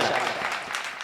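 Audience at a poetry recitation applauding for poet Shehar Anjum, a dense continuous patter of clapping, fairly close, through the short stretch.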